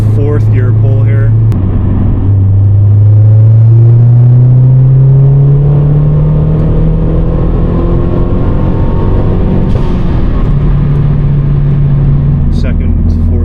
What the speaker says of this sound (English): start with our 4th gear pull here.